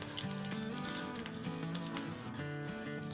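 Whole spices (cumin, coriander seeds, fennel) and four or five small round dried chillies fry in hot oil, giving a steady close sizzle with a tonal hum running underneath for the whole stretch.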